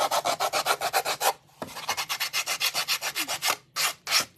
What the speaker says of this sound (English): emery board sander